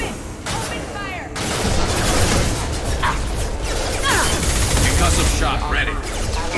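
Dense, continuous gunfire from a Mass Effect 2 firefight stays loud across the clip, with bursts of shots under shouted voices and game speech.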